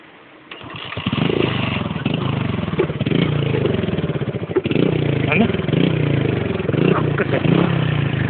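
A motorcycle engine starts and runs loud and close, its revving rising and falling steadily for several seconds with a rough, buzzing tone.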